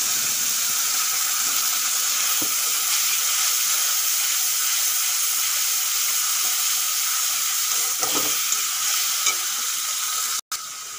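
Tomato, ginger, garlic and onion paste sizzling in a frying pan over fried onions, a loud, steady hiss with faint clicks of stirring, ending in a brief sharp knock.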